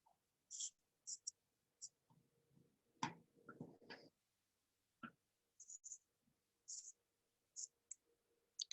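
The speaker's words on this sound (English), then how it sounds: "Should have sharpened my scissors before I did this, or bought a new pair, because scissors are not cooperating with me." Scissors cutting fabric while making a face mask, dull blades giving sparse, quiet snips and clicks in uneven bursts, with faint handling noise between them.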